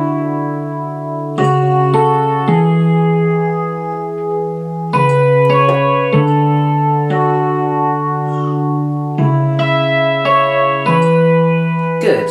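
Electric piano sound playing a part of a song; clear sustained chords struck in a slow, spaced rhythm with ringing notes between strikes, close and alone with no voice.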